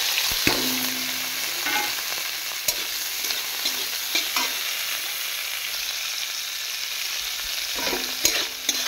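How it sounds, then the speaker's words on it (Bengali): Bitter gourd frying in oil for shukto, a steady near sizzle broken by intermittent spatula clicks and scrapes against the pan, no talking. "তো উচ্ছেগুলো আমি এবারে লাল লাল করে ভেজে নেব।"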